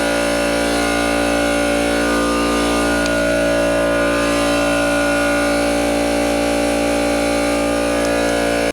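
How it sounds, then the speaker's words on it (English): A compressor runs steadily in a workshop beside a 1995 Harley-Davidson Evo Softail, a constant loud mechanical hum with a droning tone that holds unchanged throughout, no voices. "Okay, compressor's finally off."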